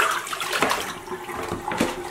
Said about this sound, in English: let me empty out this water real quick.